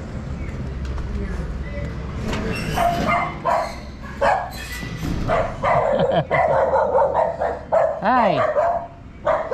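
A dog barks several times outside a house for rent in Barrio Barretto, a few sharp barks and yips mixed with a person's voice and some street noise.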